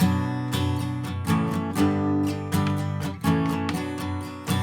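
Acoustic guitar strums a chord progression with sharp, syncopated strokes and ringing chords, close and clear, no voices.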